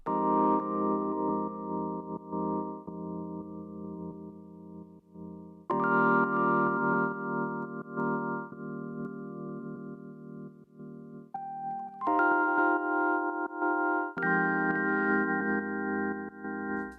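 Rhodes electric piano chords with a warm, mellow tone, played in sustained blocks that change every few seconds, loud and close with no voices.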